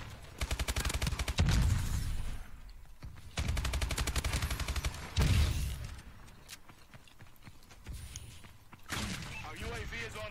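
Bursts of automatic gunfire from a Call of Duty: Advanced Warfare multiplayer match, loud volleys of a few seconds each separated by brief gaps, with players talking over the fighting.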